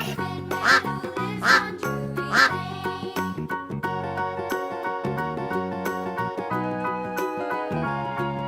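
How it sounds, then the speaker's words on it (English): A kids' washing machine toy playing farm animal sounds gives three loud duck quacks in quick succession over a bright, jingly electronic tune that keeps playing steadily afterward, close and clear with no talking. "Duck."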